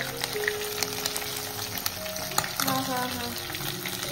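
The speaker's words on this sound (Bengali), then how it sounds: "চিতল মাছ ভাজা।" Chital fish fries in a pan, making a steady close crackle and sizzle with occasional spatters and faint utensil clinks. No one speaks over it.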